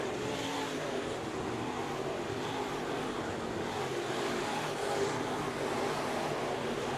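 Race cars roar around the Bakersfield Speedway track during the Budweiser Nationals, a continuous dense engine drone from several cars heard at a distance, with faint commentary underneath.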